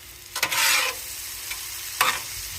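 Chicken fried rice sizzles on a hot hibachi griddle as a spatula stirs and scrapes it in two bursts, a long one early and a shorter one near the end, over a low constant fry with no voices.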